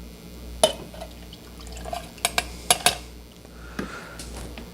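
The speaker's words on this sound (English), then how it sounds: "Throw your tequila in there." Cazadores Reposado tequila poured over ice in a glass for a Cadillac margarita, giving a soft trickle broken by a few sharp clinks and drips, close and quiet with no talking.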